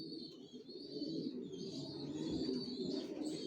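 Racer pigeons coo softly and continuously, low murmuring calls layered together at moderate distance, with faint higher chirps above and no speech.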